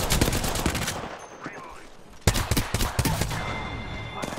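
Gunfire in the battle royale game Apex Legends comes in rapid automatic bursts, two loud clusters separated by a quieter gap, with faint in-game effects between them.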